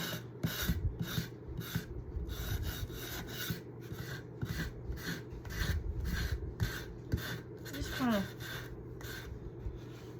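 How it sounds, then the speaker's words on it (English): Small handheld finger sander distressing black-painted wood on a Dollar Tree farmhouse decor piece, heard as close, rhythmic rasping strokes repeating steadily throughout. "I'm just going to use my little finger sander."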